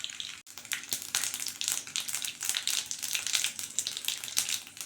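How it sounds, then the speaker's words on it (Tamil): Mustard seeds and urad dal tempering in hot oil for a lentil-ball kuzhambu, giving dense crackling sizzle with rapid popping bursts, loud and close after a brief opening click, no talking. "அதே ஆயிலில் இப்போ குழம்பு தாளிச்சிக்கலாம்."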